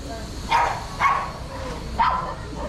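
Several dogs bark at an outdoor pet blessing in Tanauan City, three sharp barks spaced about half a second apart, moderately near, over crowd murmur and a background voice.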